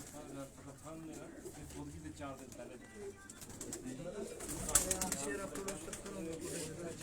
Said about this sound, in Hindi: ये फकीरपुर कबूतर है उस्ताद जी।